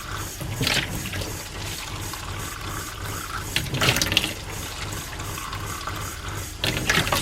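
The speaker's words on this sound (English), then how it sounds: "now you hear the pitch of my pump has changed" A camper's water pump pushes antifreeze through a faucet, giving a steady hum and rushing water with a few louder gushing surges.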